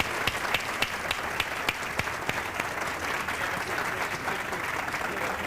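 An awards ceremony crowd claps steadily, sharp hand claps scattered through a dense wash of applause that carries on throughout.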